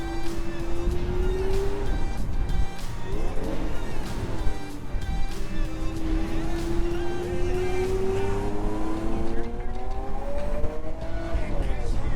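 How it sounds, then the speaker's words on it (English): A Lamborghini Aventador supercar engine drones and climbs in pitch, shifting and rising again in a loud, close, continuous roar. "there's no better sounding car than the Lamborghini Aventador"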